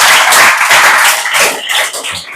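Loud, close clapping by schoolchildren in a classroom, a dense burst of many hands at once that thins out slightly toward the end.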